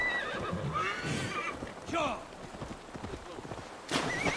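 A horse whinnies a few times over galloping hoofbeats, with game-like ambient sound throughout and a final neigh near the end, in the video game Assassin's Creed Valhalla.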